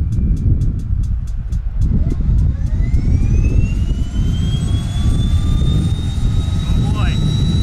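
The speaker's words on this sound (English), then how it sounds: "Let's start this plane up." A light airplane's propeller engine starts up and runs on the ground, a loud steady roar that rises in pitch as it spools up, with a person speaking over it.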